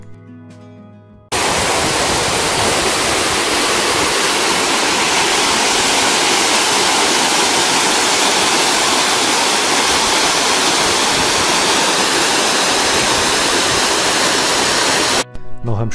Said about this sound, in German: Bis wir zum Wasserfall kommen.